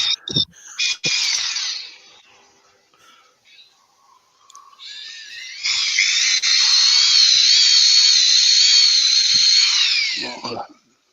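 An electric drill on a woodturning setup whirs loudly for several seconds after a few short bursts and clatter, then winds down and stops.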